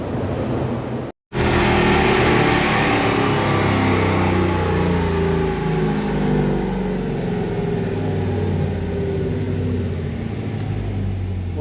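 Toyota 1UZ V8 from a Zephyr, Haltech 2500 Elite tuned, roaring under load on a dyno in third gear, a loud continuous engine note rising in pitch through the run after a brief cut at the start.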